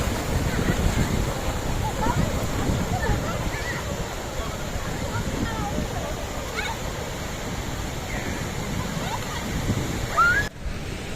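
Sea waves at Old Digha beach, a continuous loud rush of surf with wind buffeting the microphone, while people talk nearby.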